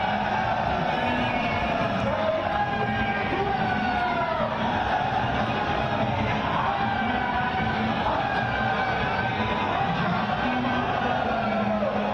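A huge crowd of thousands lines the street at the Prime Minister's road show in Varanasi, a dense continuous roar of voices with music playing and horn- or siren-like tones weaving through, loud and steady throughout.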